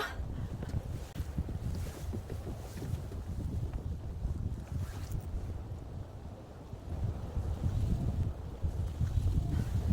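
Strong wind on the Bukaksan mountain trail roars and buffets the microphone in a continuous low rumble, rising and falling in gusts throughout with no speech.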